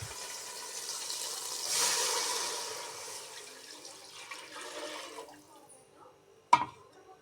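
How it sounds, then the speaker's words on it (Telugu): Water is poured from a measured glass into a pan of simple bagara rice, giving a steady splashing gush that swells near the start and then tapers off, ending in a short clatter. "ఈ వాటర్ని ఇప్పుడు ఈ బగారాలో వేసేద్దాం."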